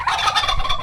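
A single turkey on a rural farm lets out a loud, close gobble, a rapid warbling burst that lasts just under a second with nothing else heard.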